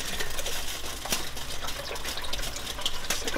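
Chicken broth poured from a carton into a cooking pot, a steady liquid gush with splashing that runs continuously without pause for a few seconds, close and moderately loud, with no voices.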